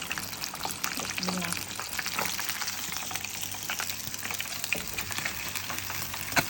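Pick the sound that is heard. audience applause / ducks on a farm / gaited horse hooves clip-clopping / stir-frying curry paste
stir-frying curry paste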